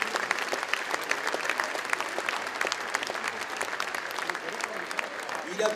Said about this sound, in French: On l'applaudit, bien sûr.